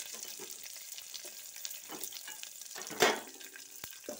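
Chopped small onions (shallots) hit hot sesame oil already holding mustard seeds and curry leaves, giving a steady low sizzle and crackle with a louder burst midway as they go in, no voices.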